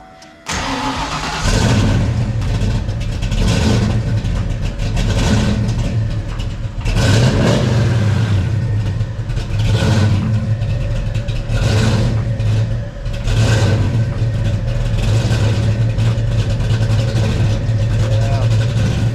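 A car engine runs steadily at a low, even idle, loud and close, with a faint voice talking now and then beneath it.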